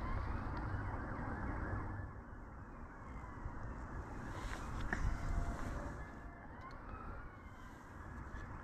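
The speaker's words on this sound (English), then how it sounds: "I can hear all the sirens going off out there" Distant emergency sirens wailing and rising and falling over low city rumble on a Saturday night, faint and overlapping, heard from a flat roof.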